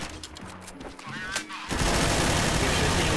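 Gunfire in Counter-Strike: Source zombie escape mode, a sustained dense burst of automatic shots that swells into a continuous loud barrage after scattered earlier shots.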